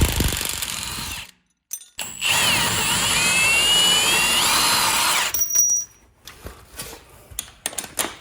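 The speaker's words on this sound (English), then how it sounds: "to get things started, the first thing I'm gonna need to do is remove what we already have installed, and for that I'll be using an 18mm socket and wrench" Power-tool work with an 18mm socket and wrench removing shock absorbers from a Jeep Wrangler: a loud whirring run, a short pause, then a long steady high-pitched spin, followed by ratchety clicks and scattered clanks.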